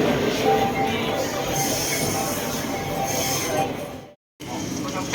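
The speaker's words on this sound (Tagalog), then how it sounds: "Medyo maingay kasi yung sa taas nito, train." Train rumbling along elevated tracks overhead near Ueno in Tokyo, a loud continuous roar with faint wheel squeal that drops out briefly near the end, while people talk in the street below.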